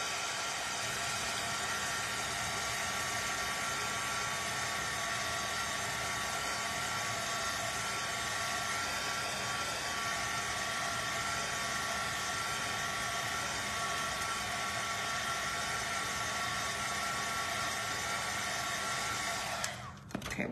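A hair dryer runs steadily and loudly over wet acrylic paint on a Dollar Tree canvas, a constant whirring hum that cuts off at the very end.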